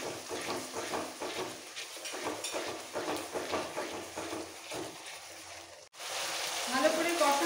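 Rohu fish curry with beaten yogurt sizzles gently in a pan while being stirred, with soft scraping strokes and a brief pause before the frying swells again.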